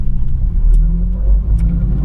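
Cars pass through a busy, congested intersection in Semarang, a loud continuous low engine rumble with vehicles accelerating nearby and no talking.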